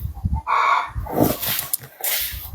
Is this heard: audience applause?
no